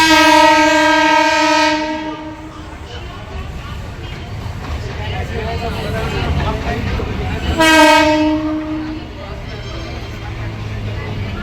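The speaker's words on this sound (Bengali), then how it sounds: "আর দিক দিয়ে আমার পিঙ্ক কালার ট্রেন আসছে।" A pink-liveried train approaching Dum Dum Junction near Sealdah sounds a long, loud horn, rumbles past with heavy rolling wheel noise, then sounds its horn again.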